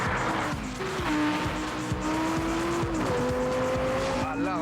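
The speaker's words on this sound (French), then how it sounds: "on fait des tours de circuit" Audi R8 V10 sports car lapping a race circuit, its engine revving steadily up and down through gear changes with tire squeal, loud and close throughout with no talk.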